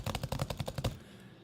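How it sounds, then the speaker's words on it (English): Brisk typing on a computer keyboard, about eight quick keystrokes in an even burst lasting under a second, close and fairly loud, then quiet. "If you hear me typing,"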